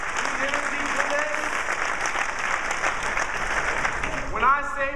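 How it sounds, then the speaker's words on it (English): A tech expo crowd in New York breaks into loud, sustained applause, with voices and a rising whistle or cheer cutting through the steady clapping near the end. "More applause for them, please. Lots of applause, more energy for this."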